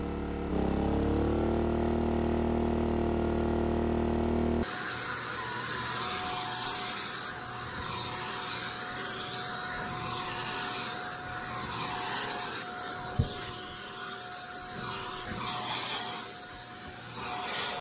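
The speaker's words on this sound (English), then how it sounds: "Let's see if it can help you with vacuuming." A vacuum cleaner runs from a Sportsman inverter generator, starting with a loud steady whine that drops to a lower, rougher hum while it cleans carpet, with a single soft knock near the end.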